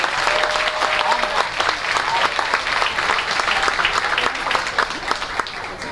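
A stadium crowd at the Lawrence County Band Festival claps for the Westminster Titan Marching Band, a steady, fairly close patter of many hands with distinct individual claps standing out.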